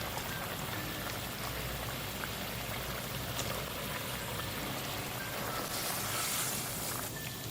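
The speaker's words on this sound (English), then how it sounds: "The gravy has come to a rolling boil, so now add the tofu and the potatoes" A pot of gravy bubbles at a rolling boil with tofu and potatoes in it, a steady dense churning hiss that holds evenly and continuously throughout.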